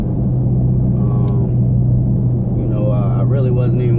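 Steady low rumble of a car driving along the road, heard from inside the cabin, loud and continuous, with a voice talking over the engine and road noise.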